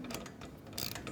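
An open-end wrench tightens a bolt on a motorcycle engine guard being fitted to a Street Scrambler 900, giving faint, quiet ratcheting and metallic clicks in a short burst.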